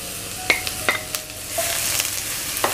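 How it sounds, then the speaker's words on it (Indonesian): Finely minced garlic frying in hot oil, with a few sharp spatula clicks and scrapes over a bright, close sizzle that swells in the second half. "Ini minyaknya sudah panas, saya masukkan dulu bawang putih yang sudah dicincang halus tadi."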